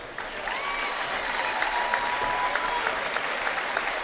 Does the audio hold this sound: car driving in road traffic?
no